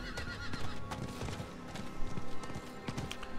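Horse in the video game Diablo IV trotting with steady clip-clopping hooves and a neigh, close and continuous alongside layered game sound effects.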